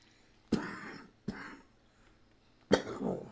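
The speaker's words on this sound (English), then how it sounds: "Now here goes the coughing." Three sharp coughs in a row, close and fairly loud, with short pauses between them and a longer gap before the last.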